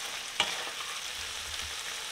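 Chicken fries quietly in oil in a pan, a faint steady sizzle with one sharp scrape of a stirring utensil early on and softer shuffling after.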